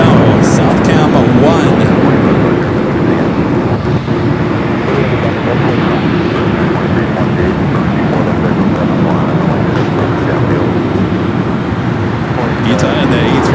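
An ITA Airways Airbus A350-900 at Los Angeles airport, a loud, steady broadband jet roar holding at one level throughout with no talking.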